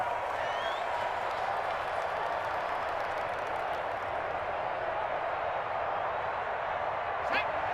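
A stadium crowd roars at an American football video game, a steady, broad wash of cheering and murmur running throughout at an even level.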